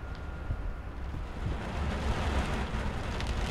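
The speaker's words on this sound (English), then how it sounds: "Damn, that rain is loud." Dense, steady rain hiss in the video game Layers of Fear, with low rumbling underneath, growing slightly louder partway through, with no talking.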